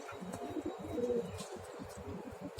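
Pigeons in a loft coo steadily in soft, low, rolling calls, with a few faint chirps over a continuous background.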